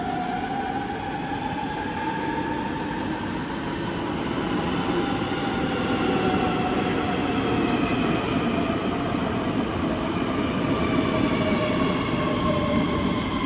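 A train pulls into a station at Copenhagen airport, its steady loud rolling roar mixed with rising and falling wheel squeals and hums that hold throughout, with no voices.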